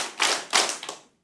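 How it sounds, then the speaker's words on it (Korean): Audience clapping in a church Bible lecture hall, two crisp bursts of many hands followed by a short faint trailing clap, then silence. "박수 2번 시작."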